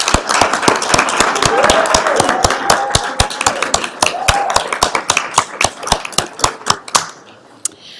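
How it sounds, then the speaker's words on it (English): A small group at a school board meeting claps, the individual sharp hand claps distinct and close in a fast, uneven patter that thins out and stops near the end. "just a round of applause for all of us and our leads."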